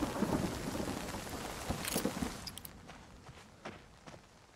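Steady rain falls with rumbling thunder in the Nightingale game's Antiquarian Forest, a dense downpour that eases slightly, with a few sharp crackles and soft thuds.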